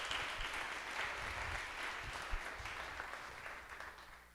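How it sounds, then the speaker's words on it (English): An audience at a food-is-medicine gathering in Edmond, Oklahoma claps for the farmers supplying FreshRx Oklahoma, with steady, dense applause from a crowd that slowly tapers off. "Can we get a round of applause for the farmers who are supplying FreshRx Oklahoma?"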